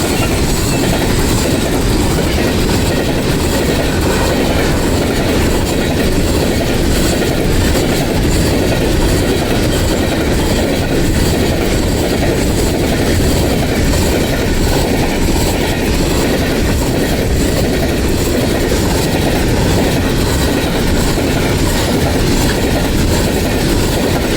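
A loud, continuous rumble of a train passing close by a village in Pakistan, with steady rattling of wheels on rails throughout and no letup.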